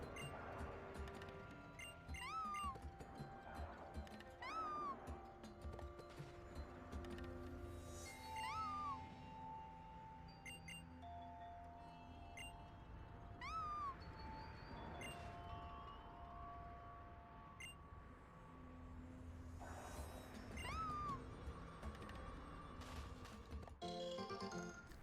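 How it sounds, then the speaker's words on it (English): Stufful's cry from Pokémon Ultra Sun/Ultra Moon repeats several times, short high chirping calls spaced every few seconds over continuous game music, with no voices. "If you like Stuffle's Cry, be sure to listen close, because you're going to hear it a bunch."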